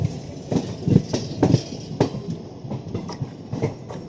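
Passenger train running on rails, close rhythmic clickety-clack of wheels over joints beneath a steady rumble.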